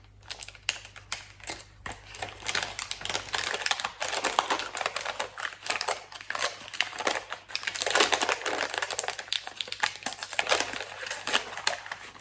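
A wrapped gift package with a seal is opened from the side, close crinkling and tearing of paper in irregular bursts of rustle and crackle, quiet but near, with no talk.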